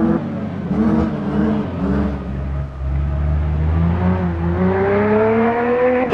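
BMW M3 E36 Group A rally car in Richard Burns Rally on the night Sardian stage, its engine revving hard and loud throughout, pitch climbing through gears with brief dips at shifts, no voices.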